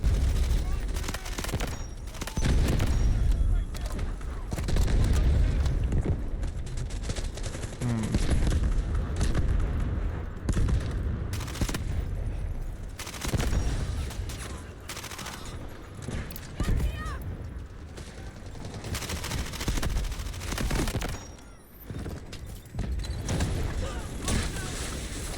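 MP5 submachine gun fired in the shooter Delta Force, bursts of rapid gunfire recurring through dense game action, loud and close throughout with heavy low-end impacts and intermittent lulls.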